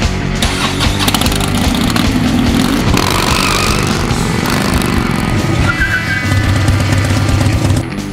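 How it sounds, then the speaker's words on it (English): A car engine revs loud and close, rising and falling in sustained throttle blips over eight seconds, with no talk over it. "Rev up your engine."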